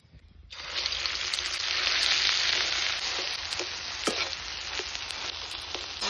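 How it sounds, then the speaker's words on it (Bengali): Potatoes frying in mustard oil in a village kitchen, a steady loud sizzle rising within the first half second and holding throughout, with a few soft clinks of stirring and no talking. "আলুটা ভাজা করার জন্য দিয়ে দিচ্ছি সর্ষের তেল।"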